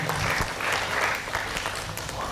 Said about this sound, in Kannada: ದಯಮಾಡಿ ಜೋರಾದ ಚಪ್ಪಾಳೆಯೊಂದಿಗೆ ವೇದಿಕೆಗೆ ಬರಮಾಡ್ಕೊಳ್ಳೋಣ.